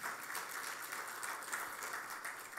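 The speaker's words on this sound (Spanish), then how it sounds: "Démosle un aplauso al Señor" Steady applause from a church congregation, a continuous wash of clapping at moderate volume with no talking over it.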